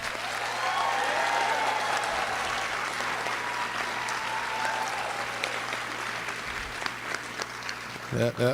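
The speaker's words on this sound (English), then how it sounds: "Let's give these 2024 graduates a round of applause." Steady applause from a graduation audience for 2024 graduates of a career and technology center, a broad even wash of clapping that holds throughout, with faint voices mixed in.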